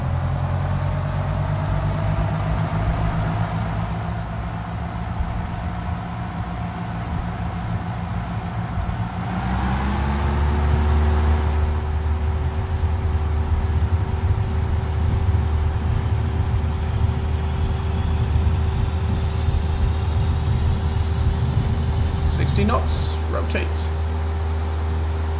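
A steady aircraft engine drone in X-Plane 11 with the mixture set to full rich, rising in pitch and loudness as power comes up for takeoff and holding a sustained hum, with someone talking over it.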